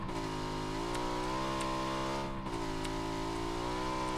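A motorcycle engine in a video game revs hard and steady while ridden, its pitch climbing, holding, dipping briefly, then climbing again in a loud continuous drone.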